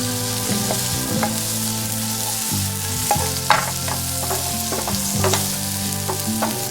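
Shrimp rolls with green and red pepper rings are stir-fried over medium-high heat, with a steady loud sizzle and scattered clanks of a spatula against the wok.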